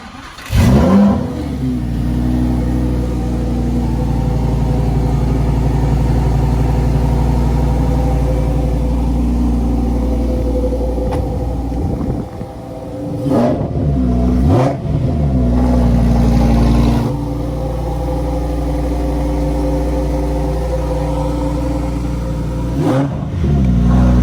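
A 2019 Lamborghini Huracan Performante engine revs hard and loud up close, holding a steady roar with sharp throttle blips and drops near 1, 13, 15, 17 and 23 seconds; no voices are heard.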